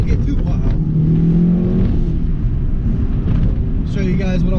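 A 1998 Mitsubishi Lancer Evo 5 engine drones steadily close by, rising as the car pulls and accelerates, with people talking over it inside the cabin.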